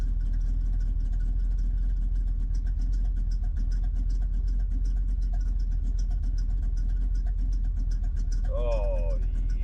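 A 1976 Ford Ranchero's engine idling at about 1,000 RPM, a steady low rumble with constant pulsing, close and loud throughout, with a brief voice near the end.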